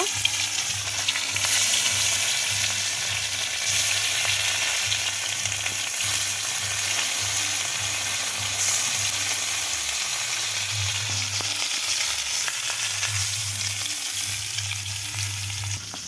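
Spiced katla fish pieces fry in hot oil with a loud, continuous, dense sizzle that holds steady throughout, over a low steady hum, with no one speaking.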